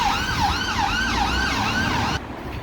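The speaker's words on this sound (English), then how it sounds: "It's an ambulance." An ambulance siren wails on a Nottingham street, its rising and falling tone sweeping repeatedly and loudly close by before cutting off abruptly near the end.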